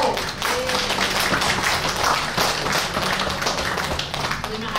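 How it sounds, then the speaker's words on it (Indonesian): Audience applause for the CSO team at a Friday religious gathering: a dense, steady wash of many hands clapping that runs the whole stretch at close, even loudness, with some voices mixed in underneath. "Jadi kita kasih aplaus buat CSO."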